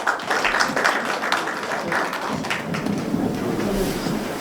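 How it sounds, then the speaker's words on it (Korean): A room of attendees at a Korean parliamentary policy forum on cultural heritage gives a dense, continuous round of applause, a loud rain-like wash of many hands clapping together throughout. "큰 박수로 맞이해 주시기 바랍니다."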